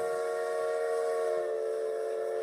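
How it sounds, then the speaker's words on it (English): A train whistle blows as a steady, loud, sustained chord-like hoot with a breathy hiss, holding unbroken throughout. "Hear that train whistle?"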